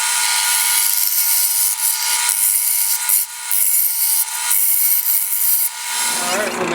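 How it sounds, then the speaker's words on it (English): Round scraper smoothing a spinning wood workpiece on a lathe, a steady bright hissing scrape held close and loud with brief dips, then falling away as the cut ends near the finish. "let me use a round scraper for this"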